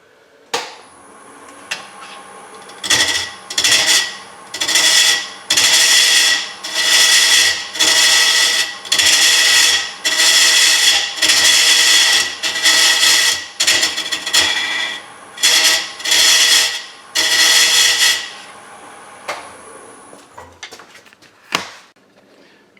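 A large wooden vase being turned on a lathe, with a tool cutting away the corners in repeated loud, broadband bursts of scraping and chatter, each pass lasting about a second, over a steady motor hum.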